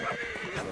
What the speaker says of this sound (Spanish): vamos a llamar al caballo